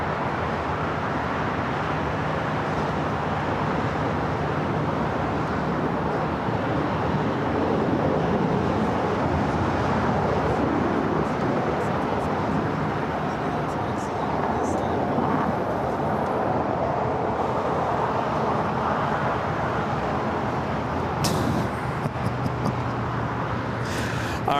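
An Airbus A320neo airliner arrives at Los Angeles International Airport from Orlando, a broad, distant jet roar blending with airport and road traffic noise, swelling gently and continuing steadily without voices.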